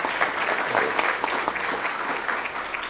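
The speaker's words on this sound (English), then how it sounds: "Give her a round of applause." A conference crowd applauds one of its directors, a full, sustained burst of many people clapping close and loud, holding steady from start to finish.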